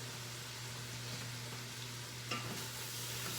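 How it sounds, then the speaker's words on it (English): Beef bolognese is stirred in an Instant Pot, a faint, low sizzle and soft scraping under a steady hum, with one brief knock of the spoon partway through. "Don't forget to keep stirring your pot."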